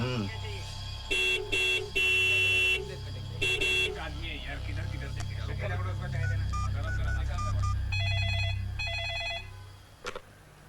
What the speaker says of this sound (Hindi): कब से हॉर्न बजा रही हूँ, तबस्सुम नीचे क्यों नहीं आ रही है?